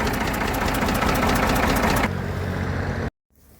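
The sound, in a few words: old tractor engine running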